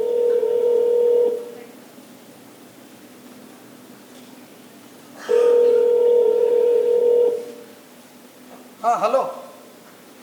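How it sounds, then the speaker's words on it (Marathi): A telephone handset gives two long steady tones, then a quick burst of dialing tones, heard plainly indoors while calling a laboratory. "लॅबला एकदा परत फोन करून कन्फर्म करूया"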